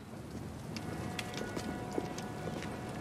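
Horse hooves clip-clop on a street in Assassin's Creed Syndicate, a steady run of faint, crisp hoof strikes in quick rhythm over a soft background wash.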